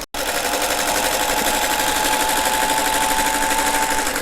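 Sewing machine stitching a churn dash quilt block, a steady, loud, continuous motor whir with rapid needle chatter running the whole time after a brief silent start.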